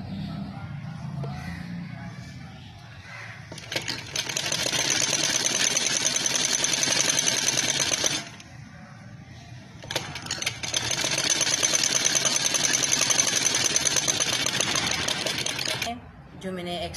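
Sewing machine stitching fabric with buckram, a steady close whirring hum in two long runs separated by a short pause, with someone speaking briefly before it starts.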